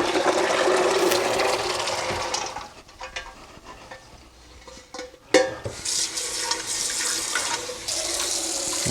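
Brined beans poured into a colander in a kitchen sink, water gushing and splashing loudly, easing into trickles and drips with a sharp clank midway, then the rush of water picks up again.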